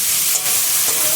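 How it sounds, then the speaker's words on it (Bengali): Boiled potatoes sautéed with spices in a hot pan, a steady close sizzle and hiss with faint stirring scrapes, heard alone without talk. "মশলার সঙ্গে কষানো হয়ে গেছে সুন্দরভাবে"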